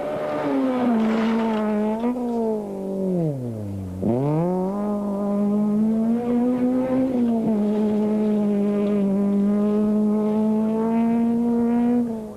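An N4 Mitsubishi Lancer Evo rally car blasts past at a gravel rally, its engine rising, dropping sharply on a gear change or lift around four seconds, then holding a loud, strained note with faint tyre noise.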